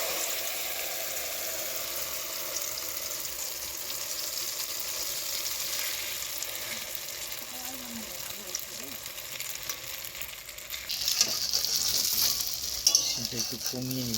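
An egg frying in ghee in a pan gives a steady, moderate sizzle and crackle throughout; near the end the frying grows louder and busier as the heat and stirring change.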